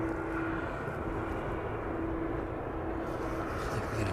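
A fixed-wing airliner departs East Midlands Airport, a steady broadband engine roar held at a constant level throughout, with a faint droning tone running beneath it and no voices.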